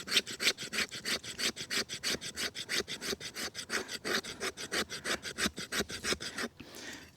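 A large knife blade scrapes fatwood into shavings in a quick, steady rhythm of rasping strokes, about four per second, close and clear, with a short pause and a softer scrape at the end.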